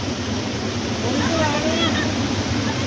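Flowing mountain waterfall in a snowy hillside setting, a dense, constant rushing wash of water, loud and close, with a voice speaking over it.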